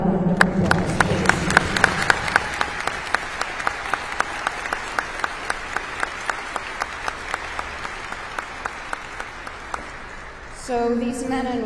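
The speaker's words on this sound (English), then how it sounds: "Let's give them another round of applause, please." An audience applauds World War II veterans at a Connecticut honoring ceremony, a fast run of sharp individual claps forming steady ovation for about ten seconds, then fading as a voice begins speaking.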